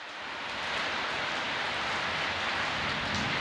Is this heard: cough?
no